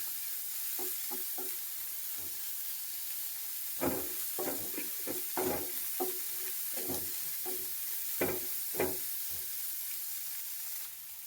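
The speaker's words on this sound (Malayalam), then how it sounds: "ഇത് വറുത്ത റവയാണ് എന്നാലും ഞാൻ ഇതിൽ ഇട്ട് ഒന്നുകൂടി വറുക്കുകയാണ്" Already-roasted semolina (rava) is roasted again in a pan, with a steady quiet hiss and a run of rhythmic scraping stir strokes.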